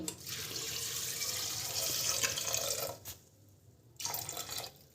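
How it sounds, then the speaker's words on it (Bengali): Water pours from a tap into a pot of chickpeas, a steady rushing splash that stops briefly near the end, then resumes for a moment. "ছোটো চামচের 1 চামচ, আর দিয়ে দেবো জল"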